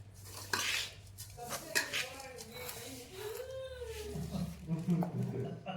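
A spoon scrapes and clinks in a pot as ground nuts and ground cashews are stirred together for a methi pak sweet. The scraping is quiet and close, with faint tonal sounds in the background.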